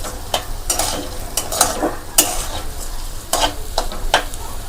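Rice for Basanti pulao fries in a pan with a soft sizzle, while a spoon scrapes and stirs it in repeated sharp strokes near at hand.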